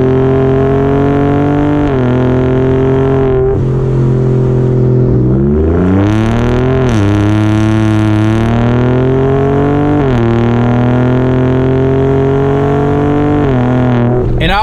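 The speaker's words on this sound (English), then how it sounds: "This is still nowhere near the exhaust you would think you'd hear out of an off-road truck." Gen2 Ford Raptor truck fitted with an AWE 1FG exhaust, revving loudly and close by, its deep exhaust note rising and falling through several sustained blips with no talking.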